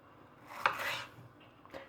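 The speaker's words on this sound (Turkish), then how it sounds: "biberlerimi doğruyorum" Knife chopping peppers on a cutting board while preparing Antep tava, heard as a few close, brief cuts and scrapes clustered together, then a lone tap near the end.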